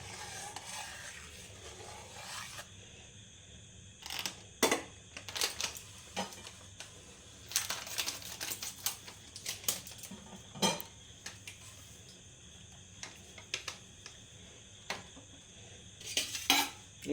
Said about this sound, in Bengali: এটা একটু নাড়তে হবে, একটু ঘন করতে হবে দুধটা